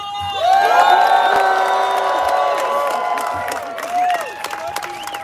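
A large crowd at a reparations rally cheers and whoops loudly, a sustained roar of many voices that swells at first and then gradually tapers off, with some scattered clapping.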